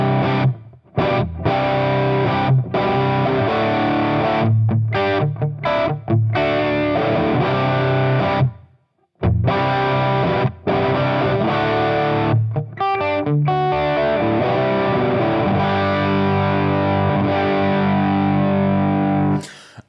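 Electric guitar through a Nabla 1987 v2 dual-channel Plexi-style overdrive pedal plays chunky chords and riffs with a crunchy, saturated tone, briefly pausing midway before ringing out with sustained distorted notes.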